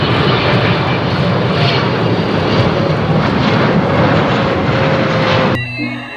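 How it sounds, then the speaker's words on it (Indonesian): A cargo airplane's engines roar loudly and steadily at close range for several seconds before the noise cuts off abruptly near the end. "Yang ini pesawat kargo."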